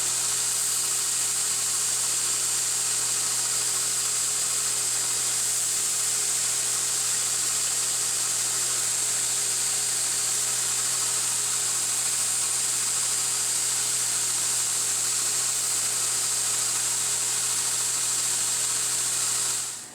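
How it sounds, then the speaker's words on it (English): An electric grinder deburrs and chamfers a hole in a metal mount tab, whining at a constant high pitch without pause for the whole stretch before cutting off at the end. "Using the grinder, it's a 220."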